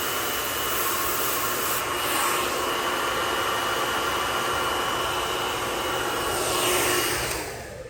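A hair dryer blows a steady, close airflow across a section of dry hair during a salon-style cool shot, the broad whooshing hiss holding even for several seconds with slight swells in loudness.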